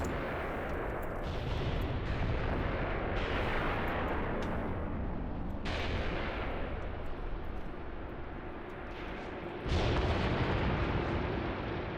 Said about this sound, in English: I'm going to let the Tigers shoot at the infantry